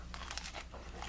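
A crusty baked mascarpone rosemary roll gives a few quick, crackly crunches in close succession, quiet and up close with no talking.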